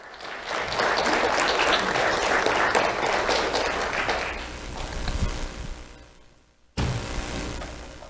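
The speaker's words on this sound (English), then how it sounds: "Let's have a round of applause for Carter Brown." Audience applause at a sheriff's office awards ceremony, loud dense clapping that fades out over several seconds before a sudden cut and a brief renewed burst.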